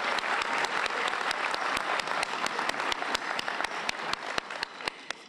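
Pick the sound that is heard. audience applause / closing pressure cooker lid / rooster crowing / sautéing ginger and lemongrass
audience applause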